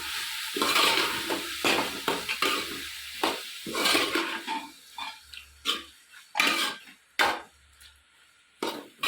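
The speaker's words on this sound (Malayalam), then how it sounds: "കുറച്ച് നല്ല പോലെ വറുത്തെടുക്കും" Beef pieces frying in coconut oil with curry leaves for a homemade pickle, a close sizzle broken by repeated stirring scrapes and pauses, no talking.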